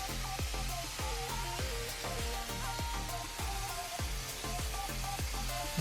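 Eggs frying in a pan with bitter melon for Okinawan goya champuru, a continuous loud sizzle with a regular rhythm of short tonal clinks or taps repeating roughly every half second.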